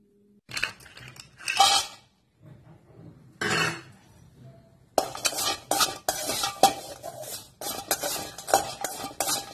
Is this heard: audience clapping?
no